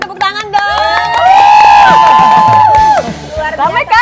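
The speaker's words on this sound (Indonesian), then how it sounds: "Tolong dong yang ada 200 orang di sini tepuk tangan dong." A loud studio audience of about 200 people at an Indonesian cooking show cheers, whoops and shouts close by, with sustained voiced yells swelling in the middle and a little clapping mixed in.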